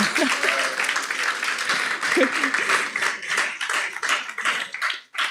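Conference audience at a global live-streamed session breaks into applause, a full, sustained wash of many hands clapping at close range, with scattered voices underneath and the clapping thinning out just before the end.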